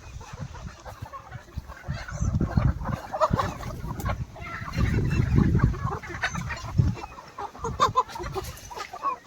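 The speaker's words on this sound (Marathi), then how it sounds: "हजार पक्षांना दीड एकरचं कंपाऊंड केलंय कोंबड्यांचा लाईव्ह सौदा आहे आता बघून घ्या" Many chickens, a flock of about 1,000 desi birds on a poultry farm, clucking and murmuring together, with irregular louder bursts and low rumbling noise around them.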